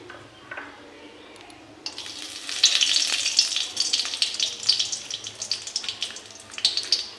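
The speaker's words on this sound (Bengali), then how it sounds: "আমি গরম মশলা এলাচটা দিয়ে দেব ফোড়নে" Garam masala and cardamom hit hot oil for a tempering, starting quiet and then bursting into a loud, crackling sizzle that stays busy and uneven to the end.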